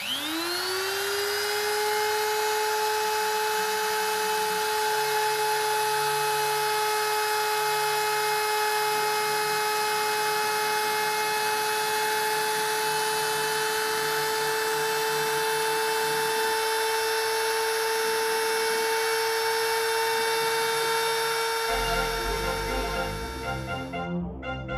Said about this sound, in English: If you have manual spindle control like I have, start your spindle, start the program,